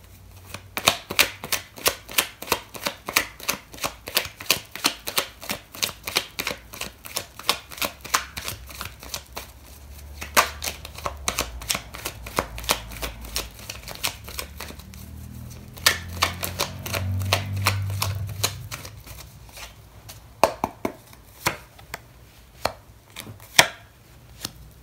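A tarot deck is shuffled by hand in a quiet room, with rapid close-up card slaps and clicks in irregular bursts and a brief riffle-like flutter midway.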